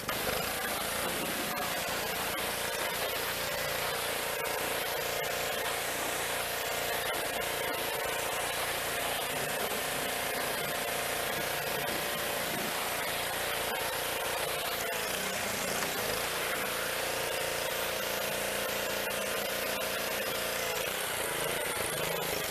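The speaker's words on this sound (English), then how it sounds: "We got the power washer running." Power washer spraying an AMG car's engine bay during detailing, a continuous loud hiss of water jet with shifting rough spatter as the spray moves over the motor, steady throughout with no voices.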